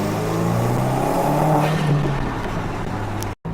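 Steady low engine hum and road rumble inside an Audi TT cruising along, even and fairly quiet, with no talking, before a brief dropout at the very end.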